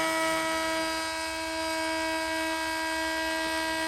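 A RYOJEGK clone handheld router runs at steady high speed, a loud, constant whine with strong sustained tones that never changes pitch across the few seconds, with no voices.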